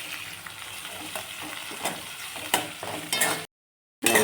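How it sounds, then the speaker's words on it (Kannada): Chopped onions frying in a pan with steady sizzling and repeated scraping stirs, fairly quiet, with a brief silent gap near the end before the sizzle resumes. "ಈರುಳ್ಳಿನ ಫ್ರೈ ಮಾಡ್ಕೊತಾನೆ ಇದ್ದೀವಿ"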